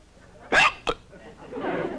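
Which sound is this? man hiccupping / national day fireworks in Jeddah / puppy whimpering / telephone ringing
man hiccupping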